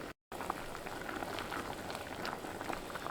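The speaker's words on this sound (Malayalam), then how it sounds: "ഇപ്പോൾ കറി നന്നായിട്ട് തിളച്ചിട്ടുണ്ട്." Kalan, a Kerala sadya curry, boils vigorously in a pot over high heat, giving a steady, dense bubbling and popping that runs almost unbroken, close and moderately loud, with no voices.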